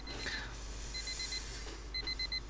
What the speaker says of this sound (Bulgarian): Чува се някакъв будилник.